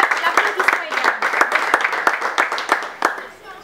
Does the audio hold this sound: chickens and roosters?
no